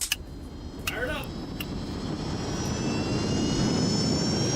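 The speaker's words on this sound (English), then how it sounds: "I'm going to start up all 3 jet engines, put the car in neutral, and go full power." Three jet engines mounted on a car firing up to full power, a loud roaring jet whine with rising tonal whistles that builds steadily under a few brief voices.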